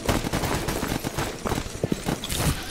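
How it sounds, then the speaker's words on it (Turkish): Dense gunfire from the video game Stalker GAMMA fills the whole stretch, overlapping bursts of automatic weapons and single shots rattling continuously at moderate distance, with no voices. "Bak mermiler ta buralara geliyor"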